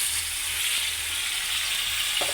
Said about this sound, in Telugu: టమాటాలు చింతపండు వేసాం ఫ్రెండ్స్ బాగా మగ్గాలి